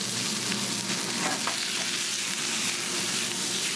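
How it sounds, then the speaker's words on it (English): Food sizzles loudly and steadily in a hot frying pan, a dense, continuous hiss with no pauses and no voices over it. "So we're going to saute these up so they don't burn."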